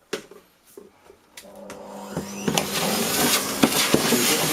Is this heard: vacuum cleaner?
yes